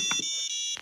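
A high electronic buzzer tone from an mBot robot sounds briefly and steadily, with faint lower tones and clicks around it, ending abruptly.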